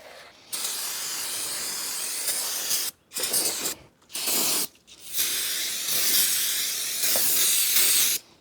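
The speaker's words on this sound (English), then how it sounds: "we're gonna spray off all the protection oil that's on the rotor" Brake parts cleaner sprays onto a brake rotor in long, loud hissing bursts broken by short pauses, close by with no talking.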